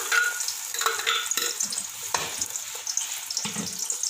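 Blended onion, garlic, ginger and tomato paste hitting hot ghee sizzles steadily up close, broken by repeated scraping stirs and small clinks of a spoon against the pot.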